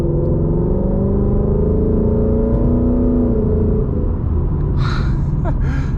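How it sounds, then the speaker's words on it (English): A 2020 Mustang GT running an E85 flex tune accelerates at half throttle, its V8 giving a loud, close, steady rumble that rises in pitch, with a brief breathy sound near the end. "We'll just do some like half throttle like type pulls."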